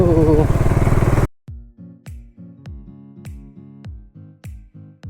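A motorcycle riding along a road between Diphu and Hmaren: first a loud roaring engine and wind rush, then a steady sequence of sharp periodic thumps and rattles as it travels over the road.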